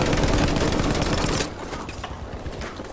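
Machine gun fire in Battlefield V, a dense, loud burst of rapid automatic shots for about a second and a half, then dropping to quieter scattered distant gunfire.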